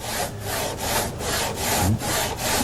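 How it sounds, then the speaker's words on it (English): A hand saw cuts through wood in steady back-and-forth strokes, about six rasping passes, close and loud with a regular rhythm. "Now gradually take your saw handle down lower and lower as you go."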